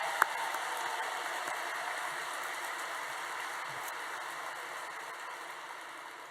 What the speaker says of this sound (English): let's give one more round of applause for our marching Royal Dukes